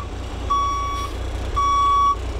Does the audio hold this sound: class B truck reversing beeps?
yes